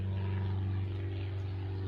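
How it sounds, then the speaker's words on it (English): A propeller airplane drones steadily overhead above a garden, a continuous low engine hum at moderate volume with no talk during it. "Sorry about the airplane."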